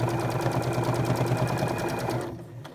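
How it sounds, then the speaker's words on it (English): A sewing machine stitches forward and backward on a pleated fabric face mask, running with a fast, even mechanical whir and tapping, then slowing and stopping near the end. "I'm going to do a little bit of forward stitch, back stitch to the end, and go on towards this pin."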